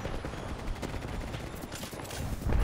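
Rapid gunfire in the battle royale shooter Apex Legends. A steady stream of close, loud automatic shots runs throughout with little pause.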